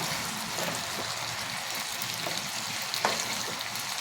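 Dried red chillies fry in hot oil as a tempering, a continuous crackling sizzle like light rain with a small pop near the end.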